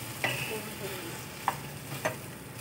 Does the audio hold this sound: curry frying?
yes